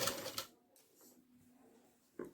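A sewing machine stitches a kurti along chalk lines in two short, close bursts, one at the start and one at the very end, separated by a quiet pause.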